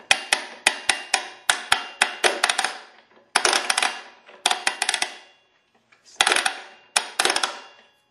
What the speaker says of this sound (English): that clicking noise is just the motor gear mechanism ratcheting as it should